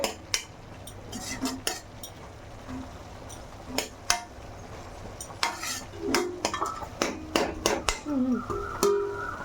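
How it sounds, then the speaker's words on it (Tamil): Cabbage and moong dal stir-fry being stirred in a pan, with a spoon scraping and clinking against the metal in irregular bursts over a faint sizzle, close and fairly quiet. "இப்போ நம்ம எல்லாத்தையும் கலந்து விட்டு"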